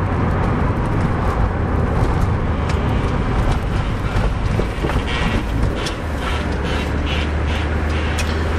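An MG TF engine pulls uphill with a steady low drone, heard from inside the car amid wind buffeting and road rumble.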